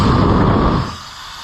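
A loud, close rush of air blasting out of a tractor tire through its open valve, a hissing roar that holds steady and then drops off sharply after under a second, leaving quieter background noise.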